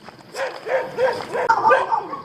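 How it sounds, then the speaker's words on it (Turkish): Several dogs bark and yip in quick, overlapping bursts, fairly close and loud, with no other sounds standing out. "yine köpekler bize başladı avlamaya"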